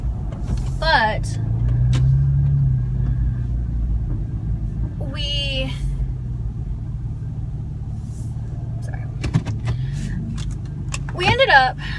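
Inside a moving Toyota FJ Cruiser there is a steady low engine and road rumble throughout, with someone talking over it and small clicks and rattles from the cabin.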